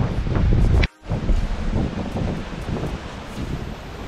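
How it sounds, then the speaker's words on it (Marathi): Arabian Sea waves surge against the stone walls of Vijaydurg sea fort on the Konkan coast, a broad roaring wash heavily buffeted by wind on the microphone, with a brief dropout near the start. "समुद्राच्या लाटा बघा कशा येऊन"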